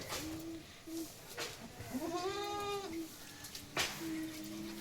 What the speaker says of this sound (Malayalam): നല്ല തീറ്റയും വെള്ളം കൂടിയുള്ള ആടുകളാണ്